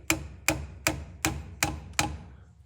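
A light hammer taps on a vehicle's front differential, giving six evenly spaced, sharp metallic knocks, each ringing briefly before the next.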